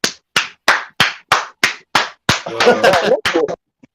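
A quick series of sharp hand claps in steady rhythm, close and loud, followed by a short burst of talk and a couple more claps.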